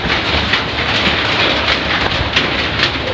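Rain falls steadily outdoors, a loud dense hiss of drops on surfaces with a constant rushing texture and a faint low rumble, no voices heard.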